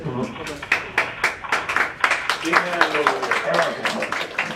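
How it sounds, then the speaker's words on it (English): A small audience claps at the close of a presentation, with uneven bursts of hand claps rising and falling, close by and fairly loud, while people talk over it. "Well, nevertheless, you got an applause."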